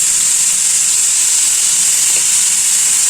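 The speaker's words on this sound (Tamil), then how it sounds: "முதல்ல நல்லா ஃபுல்லில் வச்சுட்டு நல்லா வதக்கிட்டு இருக்கோம்." Prawn thokku masala sautés over a full flame with a little rock salt, giving a loud, even, unbroken sizzling hiss with no voices over it.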